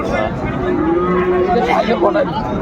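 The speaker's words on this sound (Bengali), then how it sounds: "অনেক সুন্দর নেপালি গরু ভাই, নেপালি" A Nepali cow lets out a long, low moo close by at a cattle market, with faint human chatter in the background.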